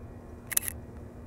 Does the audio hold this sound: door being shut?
no